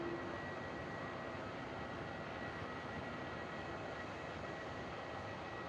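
An airliner takes off from runway 27 at Melbourne Airport. Its jet engines give a steady, distant, fairly faint roar that holds at an even level throughout, with no talk over it.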